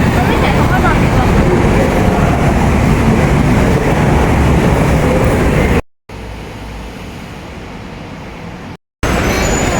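A loud, steady rumble of an electric airport-link train in motion near Don Mueang Airport, Bangkok, fills the clip, broadband and continuous, briefly cutting out twice before resuming.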